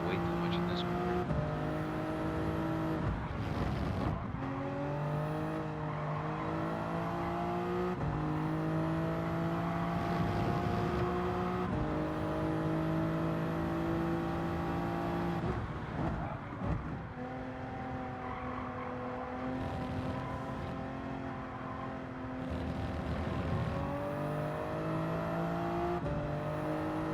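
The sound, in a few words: race car driving at Silverstone in video game Gran Turismo 7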